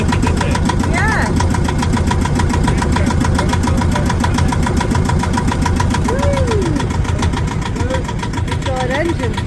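A Yanmar sailboat engine idles steadily and loudly just after its first start-up, a constant mid-pitched chugging drone throughout, with people talking faintly over it.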